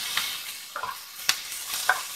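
Raw mango pieces and green chilies frying in a little oil with garlic, a gentle sizzle broken by a few distinct spatula scrapes and clicks, close and without talk.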